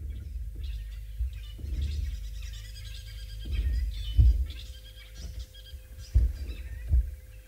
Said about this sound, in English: The birds are making a lot of noise.